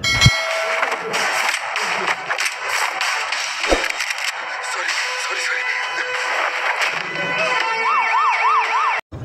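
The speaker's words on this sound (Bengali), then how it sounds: "একটি পুলিশের গাড়ি হর্ন বাজিয়ে তাদের দিকে এগিয়ে আসছে" A police car siren approaches in an action movie trailer, a wavering wail rising near the end over a loud, dense mix of music and effects.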